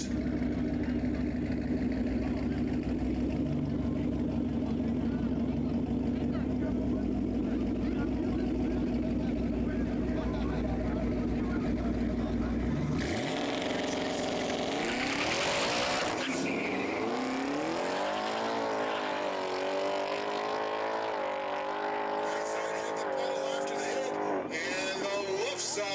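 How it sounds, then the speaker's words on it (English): A KMR Motorsports Mustang drag racing a Task SUV at a no-prep event. A sustained engine roar builds, then a loud launch surge follows with a rising, shifting howl that trails off. "KMR Motorsports Mustang on the right, taking on the Task"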